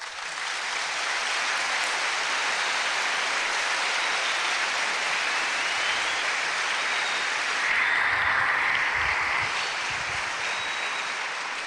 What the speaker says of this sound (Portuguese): Então é para aplaudir mesmo.